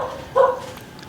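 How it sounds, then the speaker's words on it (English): A street dog in a Denpasar neighbourhood gives a single short bark, moderately close, in a brief quiet moment. "There was a dog just now here looking through the gate."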